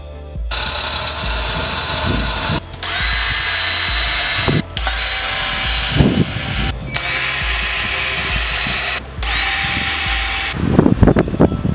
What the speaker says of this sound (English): Hopefully it'll drill through easily because it's quite thick metal.